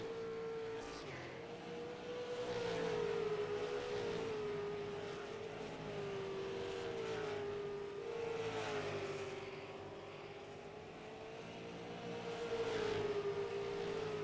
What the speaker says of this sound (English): Number 41 machine of Charles is back out onto the track with that Budweiser car.